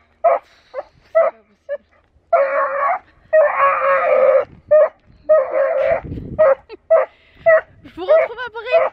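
A pet dog named Nala out on a walk gives short yips, whimpers and barks in quick bursts, close and fairly loud, with longer whining stretches between the sharp calls.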